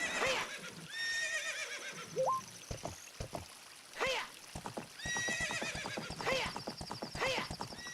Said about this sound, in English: Jump, horse, jump!